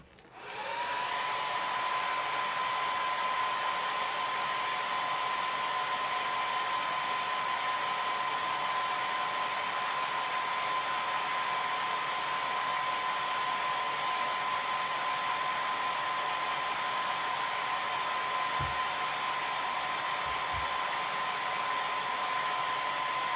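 Hair dryer blowing steadily to dry chalk paste on a black-framed wooden board, a loud continuous whine and rush that starts at once and holds unchanged for over twenty seconds, with a few faint low bumps near the end.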